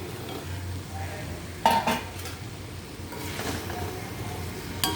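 Fried plantain pieces being stirred into tomato masala in a pan, with a few distinct spoon-on-metal scrapes and clinks over a low background sizzle, no talk.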